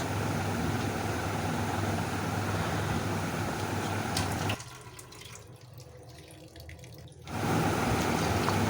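Water poured into a bowl of cashews, raisins and melon seeds to soak them, a steady close splashing rush that drops away briefly in the middle before resuming.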